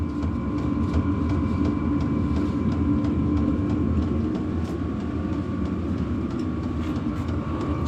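A diesel heater in a small off-grid cabin winds up into a steady, continuous whirring hum with faint tones riding on top, holding evenly without pause.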